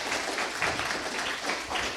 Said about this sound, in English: Can we get a round of applause for these guys, Boris and Ted?